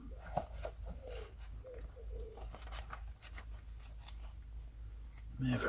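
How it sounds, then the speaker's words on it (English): A small wood pigeon coos from a studio roof, faint and distant behind light rustling and handling sounds, with a couple of soft hoots rising toward the end. "May have heard the little wood pigeon there on the roof of the studio here."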